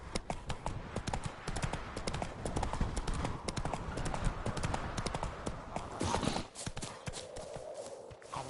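Horse Roach's hooves clip-clop in The Witcher 3, a steady stream of dense rhythmic hoofbeats that carries on for most of the clip before easing off near the end.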